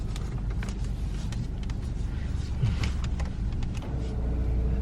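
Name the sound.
car driving through water on road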